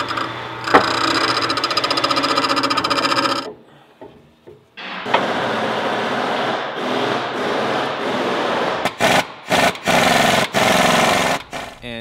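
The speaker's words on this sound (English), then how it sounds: "we have to grind down the top of these bolts because they stick out over" An angle grinder cutting down the protruding tops of bolts on a truck's steering knuckle, a loud, harsh whine that runs steadily, drops away, then returns with several abrupt stops and restarts near the end.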